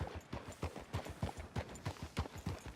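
Hooves of a horse clip-clop in Red Dead Redemption 2 in a steady, even walking rhythm, close and moderately loud, about a dozen distinct strikes.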